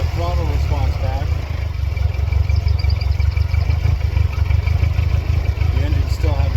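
A Mercedes-Benz engine idles roughly, a loud, uneven low rumble with clattering close by, while a person talks over it.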